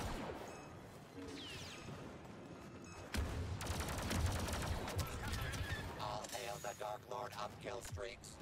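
Rapid video-game gunfire rattles continuously at moderate loudness, intensifying partway through, with voices talking over the shooting.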